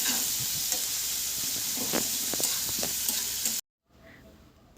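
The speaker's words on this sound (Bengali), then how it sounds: "এবার এই সব উপকরণগুলোকে হালকা একটু ভেজে নেব" Chopped onion and garlic fry lightly in a pan, a soft steady sizzle with a few stirring scrapes that cuts off abruptly near the end into near silence.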